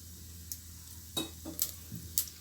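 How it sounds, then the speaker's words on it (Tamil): Mustard seeds spluttering in hot oil while tempering for rasam, a few sharp isolated pops and crackles over a low, quiet hiss. "நம்ம கடுகு முதல்ல சேர்த்துக்கிடுவோம் கடுகு பொரியட்டும்"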